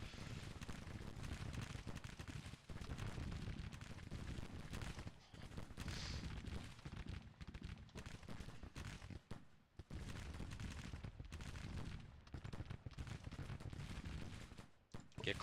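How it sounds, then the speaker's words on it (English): Dense, continuous battle din of cannon and rifle fire from a Civil War strategy game, a loud rumbling barrage with scattered booms and crackling volleys running nearly unbroken, with brief dips, and voices faintly mixed in. "Yeah, fire bombardment. Everybody do bombardment."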